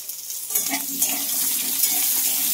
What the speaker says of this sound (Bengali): আলু পটলগুলোকে আগে একটু হালকা করে ভেজে নেব।